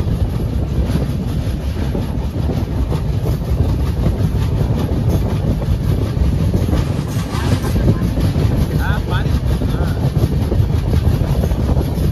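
East Coast Express (train 18046, Hyderabad to Shalimar) running on the track near Rajahmundry station, a steady loud rumble of wheels and carriage with rhythmic clatter and wind noise throughout, no talking.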